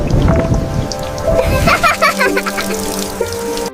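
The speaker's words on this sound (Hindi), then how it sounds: "तूफान तेज था, इसलिए छत के एक कोने से पानी टपकने लगा।" Heavy storm rain with water dripping from a corner of a house roof, a loud, dense wash of rain and splashing drops, with a voice and some tonal music layered over it.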